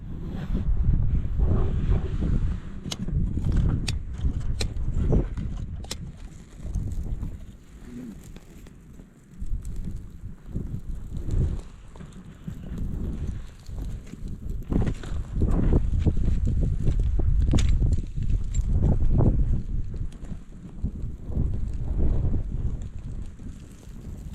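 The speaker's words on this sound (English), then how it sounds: "once that wind dies down" Strong wind blows steadily across a tent camp, roaring and buffeting the microphone in loud continuous gusts with no letup.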